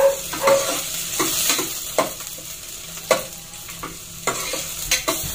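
Garlic fries in hot oil with a bright, continuous sizzle, while a utensil scrapes and stirs in the pan in irregular bursts close by.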